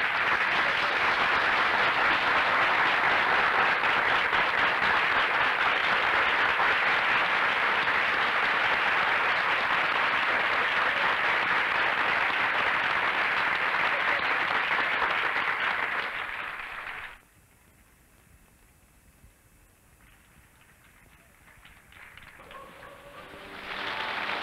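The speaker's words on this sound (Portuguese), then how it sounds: "Quer se levantar para receber as palmas dos nossos amigos?" A circus audience applauding, dense sustained clapping from a large crowd that holds steady for about sixteen seconds, then stops abruptly, leaving a quiet room before a few claps return near the end.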